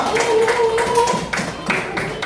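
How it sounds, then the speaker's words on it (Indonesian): Schoolchildren in a classroom clap for a group in short rhythmic bursts, with voices chanting or calling along over the claps. "Tepuk tangan dulu untuk kelompok 2."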